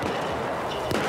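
Gunfire in the video game Battlefield 4, a short burst of muffled, rumbling shots and blasts with a sharper crack near the end, all at steady loudness.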